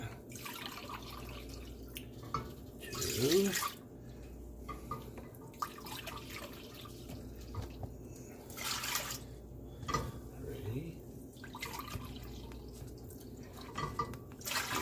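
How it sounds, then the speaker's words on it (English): Liquid splashes and trickles as it is poured into a one-cup measuring cup over a kitchen sink while making candied jalapeños, coming in several short bursts between quiet stretches as people count aloud. "So, pour it right in?"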